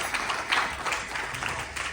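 Applause from an audience at a Ganesh Chaturthi Utsav gathering after a spiritual discourse, a faint, diffuse patter of many hands heard from a distance that keeps up steadily without pauses.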